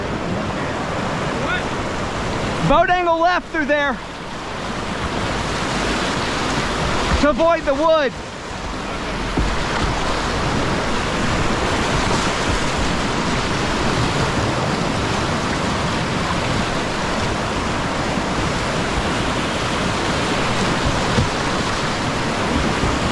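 Loud, continuous roar of whitewater on the Oconaluftee River in the Great Smoky Mountains surrounds a kayak, with two short bursts of a man calling out instructions over the rushing water.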